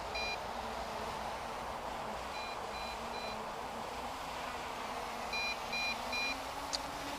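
MJX Bugs 3 Pro GPS drone warning beep: faint high-pitched beeps in short groups of three, repeating with gaps over a low steady hum.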